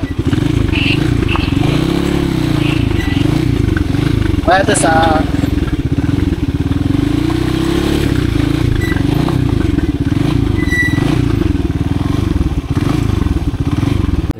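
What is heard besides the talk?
motorcycle riding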